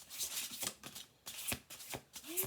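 Oracle cards are riffled and shuffled in several quick crisp bursts, close and clear, with short pauses between.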